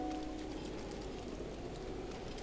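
Steady rain falling on surfaces in the video game Zelda: Breath of the Wild, a dense, even hiss of drops with no voices, constant throughout.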